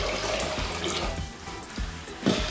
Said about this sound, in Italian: 1 litro di acqua che vado ad aggiungere all'aceto